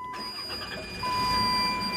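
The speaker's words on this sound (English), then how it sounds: "So we're going to go ahead and start the vehicle up" A van engine turns over and catches, a short burst of cranking that settles into a louder steady idle, with a steady electronic tone running through it and no talking.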